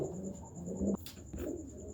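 A pair of large pigeons coos in a loft, a low throaty burbling that runs steadily close by, broken briefly by a soft scuffle near the middle.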